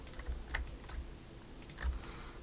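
Computer mouse clicks while working in Maya, a handful of small, sharp, quiet clicks at irregular intervals over a faint hum.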